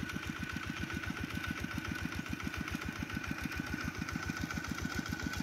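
A small single-cylinder walking tractor engine chugs at a steady, rapid rhythm close by, running continuously under load while plowing a field.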